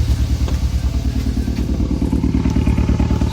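A Hyundai Veloster Turbo engine runs close by with a steady, rhythmic low chugging and some light mechanical clatter.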